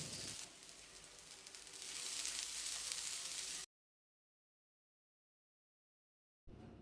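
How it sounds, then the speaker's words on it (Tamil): Grated coconut and small shallots roast in a pan, giving a soft, steady sizzling crackle that grows slightly louder, then falls silent for a few seconds before resuming briefly. "இப்போ இதோட 1 மூடி துருவின தேங்காயை சேர்த்து வறுத்தரலாம்."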